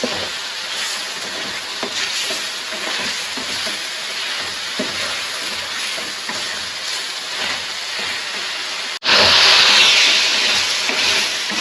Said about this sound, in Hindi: ऑयल के साथ मैं इसको अच्छी तरह फ्राई करूँगी